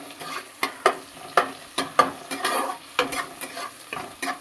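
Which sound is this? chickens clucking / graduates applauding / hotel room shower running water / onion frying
onion frying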